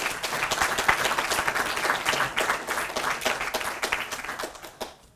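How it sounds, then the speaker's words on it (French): An audience at the semi-final of an eloquence contest applauds in a sustained, even burst of clapping that tapers off just before the end. "On peut les applaudir."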